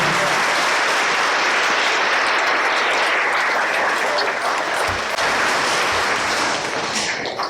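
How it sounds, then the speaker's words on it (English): Audience applause at a third-grade recorder concert held in the morning, a steady, dense round of clapping from a large crowd that stays loud throughout and eases slightly near the end. "let's give her a round of applause before we begin"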